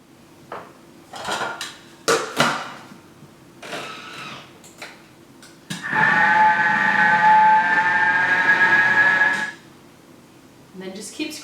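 A Thermomix kitchen machine mixing biscuit dough runs with a loud whirring blend for about four seconds in the middle, set between scraping and clinking sounds of a spatula against the bowl.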